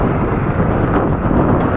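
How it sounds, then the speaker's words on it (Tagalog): Loud, steady wind buffeting the microphone, a constant low roar with gusty rumble throughout and no other clear sounds. "sobrang lakas lang talaga ng hangin"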